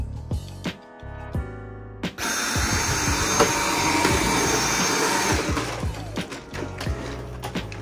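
Household vacuum cleaner running steadily indoors as a room is cleaned, preceded by a few thumps and knocks before the motor starts with a loud, continuous whooshing roar that settles slightly lower near the end.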